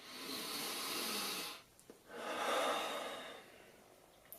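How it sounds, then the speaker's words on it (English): A person takes slow, deep breaths, a long airy exhale, a short pause, then another drawn-out breath, close to the microphone with no talking. "Just deep breathing."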